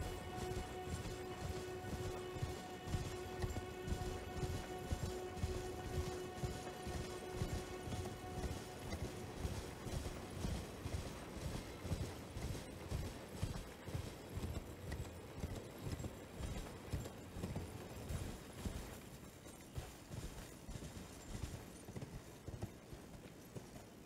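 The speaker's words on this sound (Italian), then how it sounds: "Vai Lallo cavallo." Rapid rhythmic hoofbeats of a horse galloping in the video game Elden Ring, a steady thudding clip-clop over a game music drone that fades partway through.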